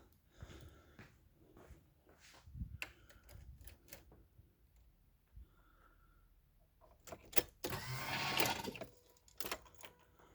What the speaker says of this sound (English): We should hear the fuel pump.